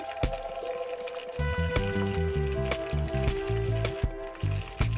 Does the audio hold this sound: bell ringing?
no